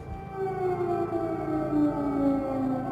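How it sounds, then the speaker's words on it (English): An air raid siren in Odessa wails continuously, its tones slowly sliding and overlapping, steady and moderately loud throughout with no talking. "The air raid sirens in Odessa warn of rockets and drone attacks, a near daily occurrence."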